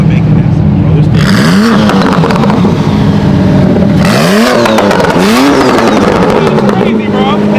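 A Mazda Miata engine revs hard in repeated rising and falling bursts, loud and close, with crowd chatter and other engines rumbling underneath at a car show.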